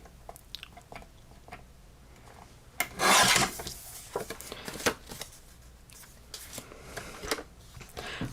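Trimming a thin sliver off a craft piece, short scraping and rasping cuts in an irregular rhythm with one louder, longer stroke, close and fairly quiet.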